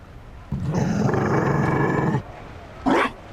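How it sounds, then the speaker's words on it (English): A Mabari war dog from the fantasy game Dragon Age: Inquisition gives a loud, deep growl lasting over a second, followed by a brief second snarl, close and without speech. "And a dog? Oh, it's a Mabari."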